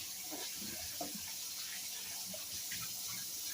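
Water runs steadily from a tap while a container is rinsed out, a continuous hissing flow with faint knocks and splashes.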